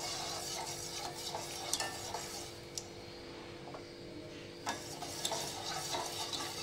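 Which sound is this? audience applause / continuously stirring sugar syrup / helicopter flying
continuously stirring sugar syrup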